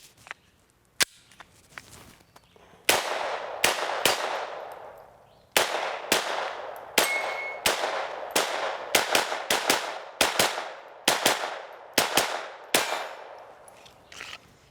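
A Sig Sauer P322 pistol fires a magazine outdoors: after two isolated shots, a string of about a dozen sharp, loud cracks comes at an even, fairly quick pace, each with a ringing decay.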